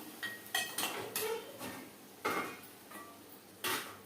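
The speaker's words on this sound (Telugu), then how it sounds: "ఇప్పుడు గిన్నెలకు వేసుకుందామా" A spoon or ladle knocks and scrapes against a metal pot and bowl as dried prawn curry, cooked with onions and greens, is served. The clinks come at irregular intervals, quiet and close.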